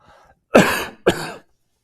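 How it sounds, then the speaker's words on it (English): Two harsh coughs, close and loud, the first longer than the second, with near silence around them. "Excuse me, I'm going to cough."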